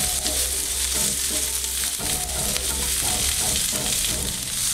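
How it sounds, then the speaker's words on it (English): Onions tossed into hot oil in a pan on high heat, frying loudly with a dense, constant sizzle and occasional stirring clatter, close and alone without talk. "We're gonna go ahead and toss in our onions first. Start those cooking."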